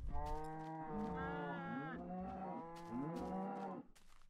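Several cows moo in the video game Minecraft, drawn-out lowing calls overlapping one another nearly continuously at moderate loudness, with no talking over them.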